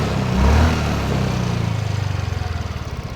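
A Yamaha Ray scooter engine cranks on its electric starter, catches on the first try and settles into a steady, close putter of idling, its pulses evenly spaced and fairly loud.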